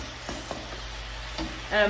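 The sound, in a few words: chicken sizzling in a frying pan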